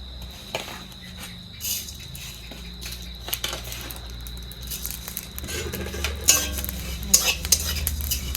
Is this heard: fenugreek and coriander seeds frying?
yes